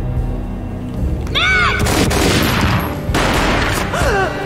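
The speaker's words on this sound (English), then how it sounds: "A gunshot boomed and she fell down in slow motion." Loud video-game gunfire and booming blasts from Max Payne, mixed with whooshing effects and swelling music, dense and chaotic throughout.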